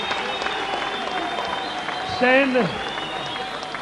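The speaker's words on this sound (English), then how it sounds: "give this man a round of applause" Crowd applause for kickboxer Stan Longinidis after a fight, steady clapping from a large audience throughout, with an announcer's voice over it.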